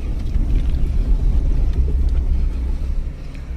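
A car ferry ship pulls away from Dabhol jungle jetty with vehicles aboard, its engines giving a loud, deep, continuous rumble close by.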